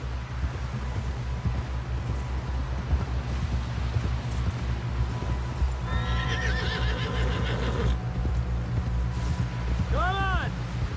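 In the video game Red Dead Redemption 2, hooves clop steadily over a low rumble while a horse whinnies twice, the second call shrill and rising near the end; voices talk underneath.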